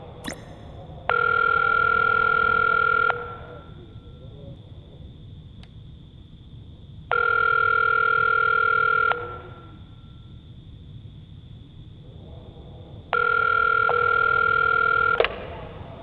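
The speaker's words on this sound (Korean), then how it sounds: "수진이한테 전화 좀 해볼게요." Three long, steady ringback tones on a phone line, evenly spaced with quiet gaps between them, over a faint background hiss. Nobody speaks.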